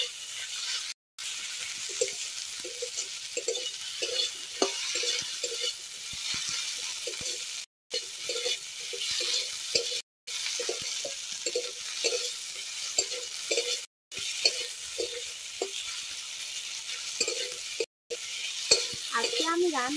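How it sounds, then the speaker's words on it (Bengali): Tomato frying in a pan for a kuche fish korma, stirred with repeated scraping strokes over a steady close sizzle and hiss, with a few brief gaps. "এবার টমেটোটা দিয়ে দেব। দিয়ে আবারও একটু নেড়ে নেব।"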